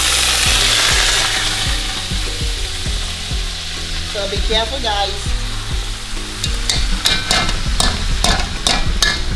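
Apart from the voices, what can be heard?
rice frying in hot oil with shrimp, being stirred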